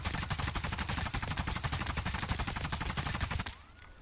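Vityaz submachine gun firing full auto in Escape from Tarkov, a loud unbroken rapid burst of shots lasting about three and a half seconds before cutting off to quiet.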